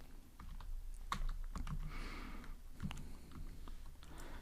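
Typing on a computer keyboard, a quiet close run of irregular sharp clicks and taps with short pauses, no voice.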